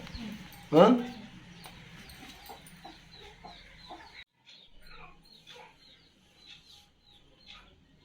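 Chickens and chicks cluck and chirp in a rural yard, with one loud close squawk early on followed by scattered softer clucks and peeps, while people talk in the background.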